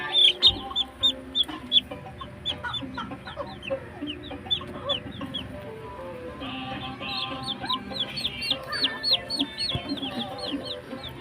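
Young chicks in a pen peep shrilly in rapid, overlapping bursts, mixed with soft clucking from poultry nearby, steady and close throughout.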